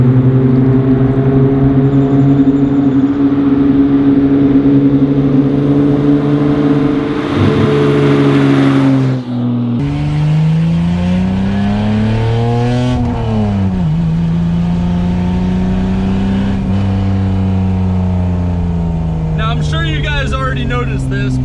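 A BMW E30 with a 2.5-liter inline-six engine, straight-through exhaust and no catalytic converter idles loudly and steadily at close range, then is blipped and revved several times, the drone rising and falling.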